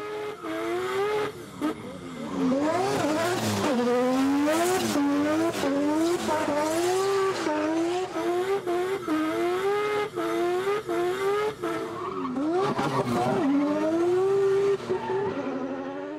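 A drift car at Goodwood Festival of Speed sliding with its tires squealing loudly, long wavering screeches rising and falling against engine roar, close and sustained for nearly the whole stretch.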